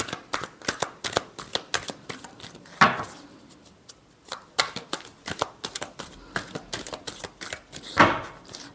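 Tarot cards being shuffled by hand, a rapid run of crisp riffling snaps and flicks with two sharper slaps, close and unaccompanied by speech.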